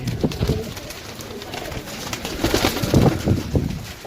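Pigeons cooing repeatedly in a busy coop of pigeons for sale, soft rounded calls overlapping with rustling and faint background noise.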